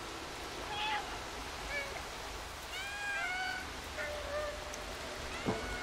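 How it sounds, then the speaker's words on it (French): A cat in the video game Stray meows faintly several times, thin and high, with separate short cries spread over a few seconds against a soft background of rain and running water. "il miaule très faiblement"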